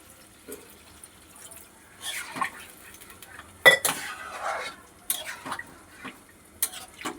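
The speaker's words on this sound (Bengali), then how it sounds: "একটু জল দেব।" Water goes into a pot of thin chicken curry, giving a few splashing pours and soft liquid swirls among scattered clinks of a utensil against the pot, with quiet gaps between bursts.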